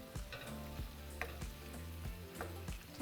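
Chili with beans and diced tomatoes stirred in a pot, a spoon scraping and thudding in a steady rhythm over a soft sizzle, faint and close with no voices.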